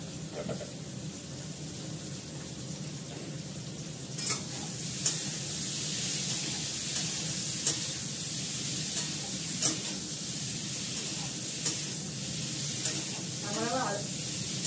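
Ginger sizzling in a frying pan while being stirred, a steady hissing fry punctuated by periodic scrapes of the spatula, close but low in level, with a faint voice murmuring underneath.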